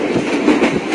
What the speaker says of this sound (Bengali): এই মুহূর্তে আমরা রয়েছি রংপুর এক্সপ্রেসে।